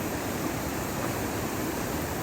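River water rushes in a steady, dense roar at a forest river crossing in Malaysia, broadband and unbroken throughout with no voices.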